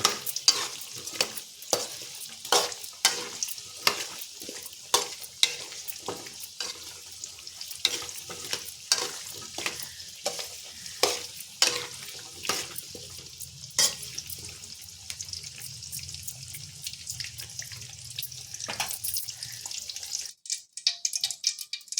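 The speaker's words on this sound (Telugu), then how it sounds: "ఒక సగం చెంచా మందం మెంతులు వేపుకోవాలి. ఇప్పుడు నూనెలో ఇవి మంచిగా కొంచెం సేపు ఉడకనియాలి." Fenugreek seeds frying in oil in a pan, a soft crackling sizzle overlaid by rhythmic, repeated spoon scrapes and taps that thin out near the end.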